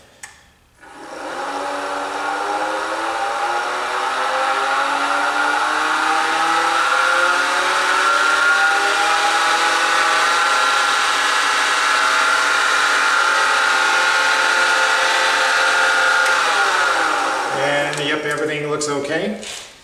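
A wood lathe spinning up for turning a ballpoint pen, a loud motor whine that rises in pitch to 3000 RPM, holds steady for a long stretch, then drops as it winds down.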